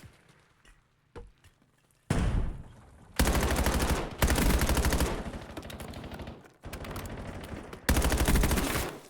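Automatic gunfire in the video game Black Ops 7, coming in loud sustained bursts separated by short quiet gaps, the rapid shots rattling close and heavy.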